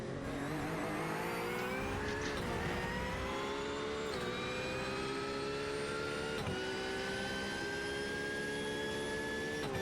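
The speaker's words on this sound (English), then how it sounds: "doesn't that Porsche sound good on throttle?" A Porsche GT race car's flat-six engine howls under full throttle at the Monza circuit during an endurance race, a loud high-pitched wail climbing steadily through gears with brief dips at shifts.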